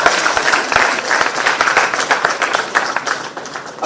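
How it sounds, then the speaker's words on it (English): An audience at a Father's Day event claps in a brisk, close round of applause that fades slightly toward the end. "Give a round of applause."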